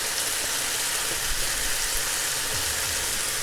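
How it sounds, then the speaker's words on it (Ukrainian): Chicken liver frying in a large pan, producing a dense, even crackling sizzle close up that continues steadily without pause or speech. "додаємо температуру, щоб куряча печінка обсмажувалась"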